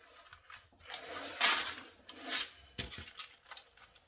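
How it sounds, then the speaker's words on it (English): A knife shaves fat off a partly frozen beef brisket in a quiet series of soft scraping and rasping strokes. The strokes come in uneven bursts at close range, with no speech. "See, I'm gonna shave a little bit this off right here."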